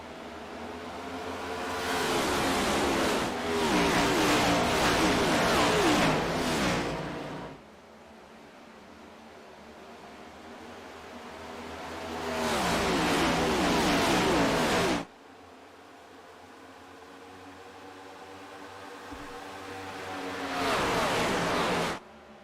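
Race cars roaring past on the Atlanta track, three loud swelling pass-bys each building then cutting off abruptly, separated by quieter stretches of distant engine drone.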